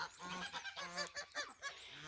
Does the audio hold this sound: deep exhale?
no